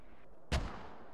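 A single heavy mortar impact in the Squad game lands with a sharp, loud boom and a short rumbling decay, set against a quiet background.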